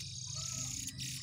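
Faint, high chirping from young jongkangan chicks set out to sun, a thin continuous twittering close by against a low background hum, without talk.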